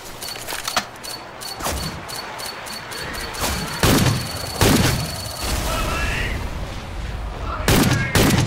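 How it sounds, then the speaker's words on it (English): A pipe bomb blast mixed with gunfire in the zombie shooter Left 4 Dead 2, with a quick series of early shots, then heavy booming thuds and a steady rumble, ending in more close bursts. "Throwing a pipe bomb!"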